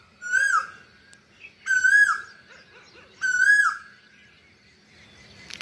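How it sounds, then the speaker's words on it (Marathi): An Asian koel sings three clear, evenly spaced rising calls, each a loud whistled phrase separated by short pauses, with quiet background between them. "कोकिळची मस्त कू चालू."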